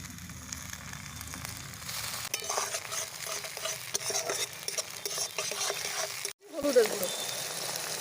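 Chopped tomatoes, ginger and green chilli going into hot oil for a dhaba-style dal tarka, a steady sizzle with stirring, a brief cut, then a louder burst of frying as the tomatoes land.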